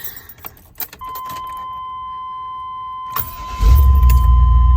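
A 1998 GMC Sierra 1500 pickup with a freshly replaced starter: keys jingle close by, a steady chime tone sounds, then the starter cranks briefly and the engine catches into a loud, steady idle rumble.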